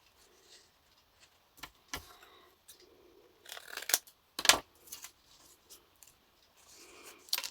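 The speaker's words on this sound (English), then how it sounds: "with my corner, my tag maker, whatever you care to call it, snip my corners off for my tags" A handheld corner punch tag maker snips the corners off paper journal tags in several sharp, separate clicks and crunches, spread irregularly with quiet pauses between them and no voices.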